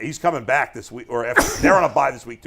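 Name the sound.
a person sneezing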